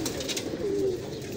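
A pigeon coos softly once, a low smooth note over a steady background hum.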